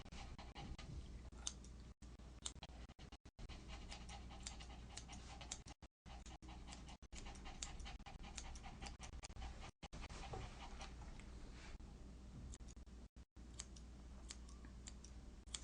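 A small dog pants in quick, steady breaths while being groomed, close and fairly quiet, with scissors clicking and snipping throughout.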